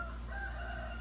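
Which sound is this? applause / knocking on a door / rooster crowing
rooster crowing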